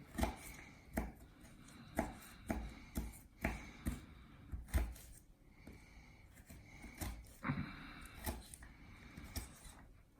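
Fresh ginger chopped with a knife on a cutting board, a series of crisp, close knocks in irregular bursts, some quick runs of strokes, fairly quiet with no talking.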